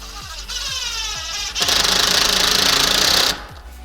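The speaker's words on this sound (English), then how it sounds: "With the impact, don't strip the screw, run it till it's nice and snug." A cordless impact driver runs a screw into a wall for a handrail, with a rapid hammering rattle in two bursts, the second longer and louder, heard close with a brief pause between.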